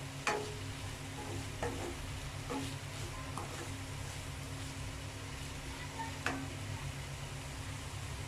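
Beetroot poriyal being stirred in a pan after a sprinkle of coriander, with a steady soft sizzle and a few sharp utensil scrapes and taps against the pan, close and moderately quiet with no talk.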